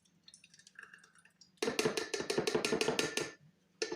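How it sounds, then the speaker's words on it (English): Kefir glugs from a container into another vessel in a home kitchen, a quick burst of about two seconds of rhythmic liquid gurgles after a quiet lead-in. "Pour 1/3 cup of the kefir."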